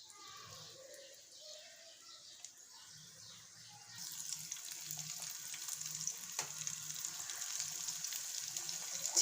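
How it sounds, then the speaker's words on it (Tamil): Chicken pieces drop into medium-hot oil for deep-frying, and the faint background gives way to a steady, bright sizzle that continues close by, with a few small clinks. "சிக்கன் வந்து ஒரு 10லேருந்து 15 நிமிஷம் மீடியம் ஃப்ளேமில் வச்சு பொரிச்சு எடுத்துக்கலாம்."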